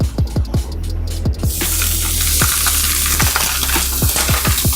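Duck breast sears in a dry pan with no oil, giving a steady close hiss that swells after a second, punctuated by repeated sharp clicks and ticks from the pan and utensils.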